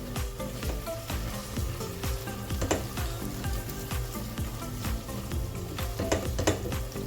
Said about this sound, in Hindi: मैं सबसे पहले अदरक लहसुन डाल देती हूँ, क्योंकि इसको भूनते भूनते ना ये और लाल होगा प्याज।